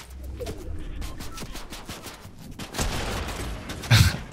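Gunfire from Fortnite Chapter 5 Season 4 zero build gameplay: irregular bursts of shots over busy game noise, growing louder toward the end, with no speech.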